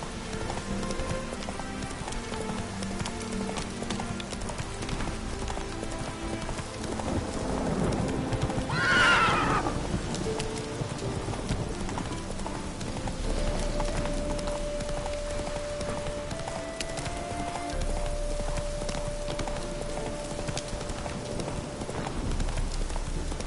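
Roach, the horse in The Witcher 3, gallops with steady hoofbeats under game ambience and music, and near the middle gives one loud, clear neigh.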